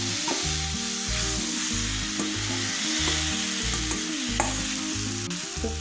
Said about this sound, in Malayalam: ഇനി ഇതിലേക്ക് നമ്മൾ ഉടച്ചു വെച്ചിരിക്കുന്ന ആ വഴുതനങ്ങ ആ കൂട്ടുണ്ടല്ലോ അതെല്ലാം കൂടി ഇതിൻ്റെ അകത്തേക്ക് ചേർക്കാം